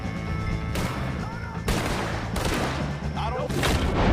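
Gunfire in a Red Dead Redemption 2 shootout against O'Driscoll gang members: loud, heavy bursts of shots and booms come several times over a constant roar of battle noise, with shouting voices mixed in.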